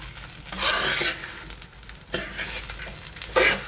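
Eggplant moju fries in a pan with a steady, close sizzle, broken by several scraping stirs that swell the hiss in bursts, with no voices.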